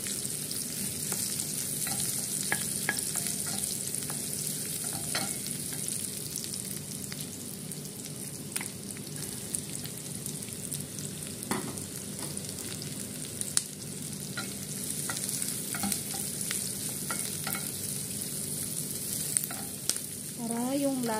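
Pansit canton noodles with shrimp are stir-fried in a hot pan, giving a steady close sizzle and crackle broken by scattered clinks and scrapes of the utensil, with no voices.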